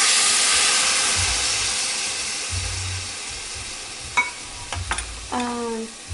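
Pasta water poured into a hot pan while cooking linguini with zucchini in lemon sauce sets off a loud steady sizzle and hiss that slowly settles, followed by a few clinks of a utensil against the pan.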